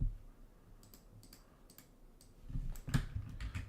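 Light, irregular clicking from a computer keyboard, faint and close, with scattered keystrokes that grow a little busier toward the end.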